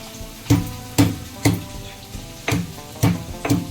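Chillies, onion and tomato frying in oil in a pan for tomato chutney, with a steady low sizzle broken by about eight regular scraping knocks of a spoon stirring against the pan, close and fairly loud.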